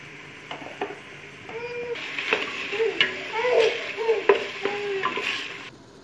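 Meat frying in a pot sizzles steadily while tomatoes are added and stirred in, with close scraping, clinking utensil knocks and bursts of louder spitting.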